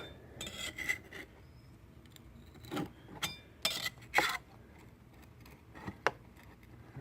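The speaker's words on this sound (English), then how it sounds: "get underneath this, and very lightly peel up the glue" Glue being peeled and scraped off the tempered glass of a Nissan 300ZX Z32 T-top panel during disassembly: scattered sharp scrapes, clicks and glassy clinks over a low background hiss, close up, with no talking.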